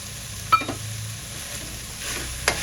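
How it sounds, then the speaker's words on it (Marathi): Tomatoes sizzle as they are stir-fried in a pan over a high flame, a faint steady frying hiss with a few sharp scraping stirs of a spoon against the pan. "तर टोमॅटो घालूया"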